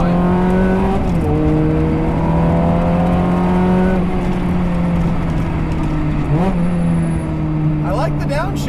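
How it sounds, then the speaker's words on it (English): Ferrari 360 Challenge Stradale engine note heard from inside the car, holding a steady pitch with a few quick blips where the revs jump and drop, sounding continuous and fairly loud with people talking over it. "I love the downshifts in a tunnel, hitting those downshifts. Well, it makes the right sounds"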